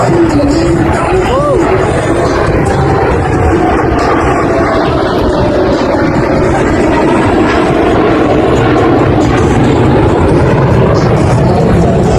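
Two Navy jets in carrier landing configuration fly a formation maneuver at the Wings over Houston 2024 airshow, a loud, continuous engine roar over crowd babble and a commentator's voice.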